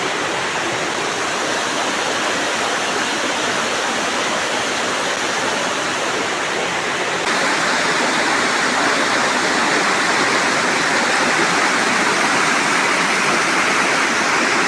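River water rushes over rocks near the Sasli dam in rural Maharashtra, a loud, continuous hiss and roar close by that swells slightly partway through, with no talking.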